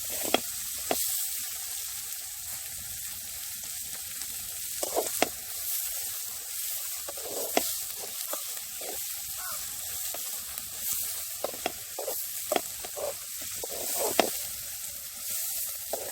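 Onions sizzle and crackle steadily in a hot pan, with occasional scraping stirs and pops, close by and with no voices.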